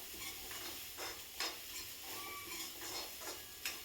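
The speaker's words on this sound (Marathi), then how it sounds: "ओलं खोबरं मी अर्धी वाटी घेतलं आहे. ते चांगलं खरपूस भाजून घ्यायचं आहे." Freshly grated coconut roasting in a pan for a Konkan-style colocasia leaf curry, with soft scraping strokes of stirring at a regular rhythm over a light, faint sizzle, close by and without voices.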